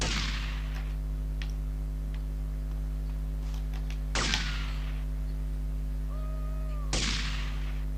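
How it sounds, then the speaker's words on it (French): Two sharp gunshot bursts a few seconds apart in the video game GTA: Liberty City Stories, over a constant low electronic hum, with faint clicks in between. "on va se laisser sous les coups de feu"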